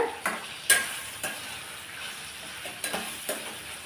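Chutney ingredients sautéing in a pan without onion, with a soft steady sizzle broken by several sharp scrapes and knocks of a spoon stirring against the metal, close and fairly quiet, with no voices.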